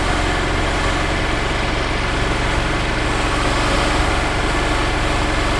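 A tractor engine idles loudly and steadily nearby, with a low, continuous throbbing rumble and no talk.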